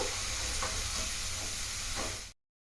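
Sakinalu, crisp rice-flour snacks, frying in hot oil with a dense, steady sizzle and crackle close up, cutting off abruptly near the end.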